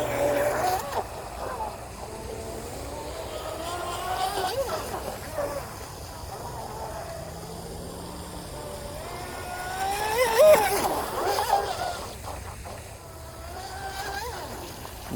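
A 19-inch fast RC water bobber boat's small motor whines steadily over water, its pitch rising and falling as it speeds up, with a louder surge near the end and talk in the background.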